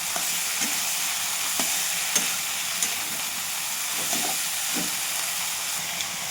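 Ridge gourd sizzles in a pan of fried spice mix while being stirred, a constant hiss broken by soft repeated scraping knocks of the spoon, close and without talk.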